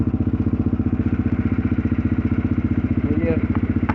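An engine idles steadily and close by, a fast even chugging pulse running throughout with a brief extra rattle near the end.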